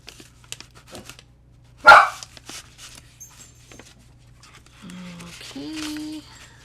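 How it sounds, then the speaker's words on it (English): Dogs bark in a house during a craft session, with one sharp, loud burst near the start, then some softer yips and vocal sounds later amid quiet rustling of paper. "You'll hear my dogs once in a while."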